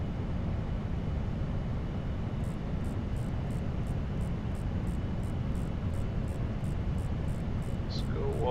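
A Boeing 787 Dreamliner flying in X-Plane 11: steady, even engine and wind roar that stays constant throughout, with a faint repeating beep near the end.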